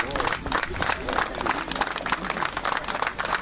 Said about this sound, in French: Voilà, sous vos applaudissements